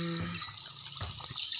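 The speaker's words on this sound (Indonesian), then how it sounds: "itu dia air mancurnya" Garden water fountain splashing into a fish pond: steady, close rushing and spattering water, continuous and fairly even with no voices.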